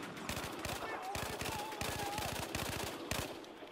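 Rapid carbine fire from an MTAR in a shooter video game, fast evenly spaced shots in bursts over steady background game noise, loud and close.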